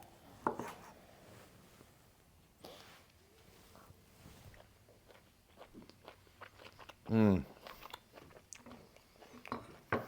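A bite of reverse-seared tri-tip steak chewed close to the mic, with soft, moist crunching bites scattered over about ten seconds and a brief hummed voice partway through.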